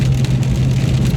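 A car driving with a continuous low engine hum and road rumble, close and steady, with no one talking.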